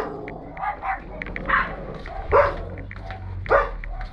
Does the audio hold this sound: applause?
no